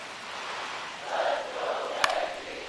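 A baseball stadium crowd in the video game MLB 25, with a steady, distant roar that swells in the middle. A single sharp crack rings out near the end.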